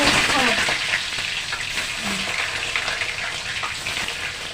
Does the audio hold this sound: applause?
no